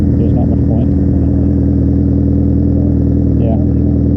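A motorcycle engine idles loud and close with a steady throbbing pulse, with no revving and a few faint clatters on top.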